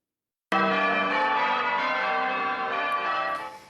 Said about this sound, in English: The congregation then moving to the lawn to experience the 6 bells in all their glory.